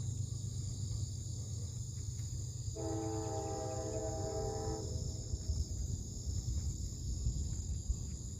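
A distant train horn sounds one sustained blast at a railroad crossing over steady insect buzzing and low rumble, faint and far off.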